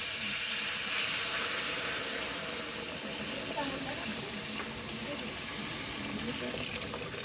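Milk poured into hot, freshly made caramel for a sweet-sour yogurt (doi) hisses and sizzles steadily, a loud, close, broad hiss that fades slightly but continues throughout.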